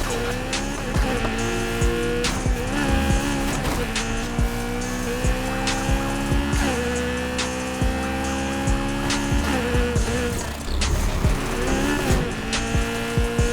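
A Honda S2000 race build roaring through a race in Need For Speed Heat, engine revving loudly and continuously with repeated gear shifts and tire squeals, close and dominant throughout.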